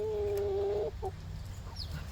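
A single rooster calls with a sustained, pitched crow-like note, followed by brief chicken clucking sounds over a low background rumble on a farm.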